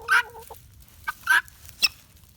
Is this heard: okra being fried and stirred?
no